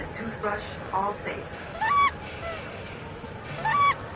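A duck in a VR airport security video game gives a few short, nasal honks, two of them louder near the end. Quiet background noise and some talking surround the honks.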